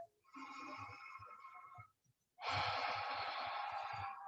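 A deep breath during a yoga session, a slow drawn-in inhale followed after a short pause by a fuller, louder exhale, close and breathy with no talking.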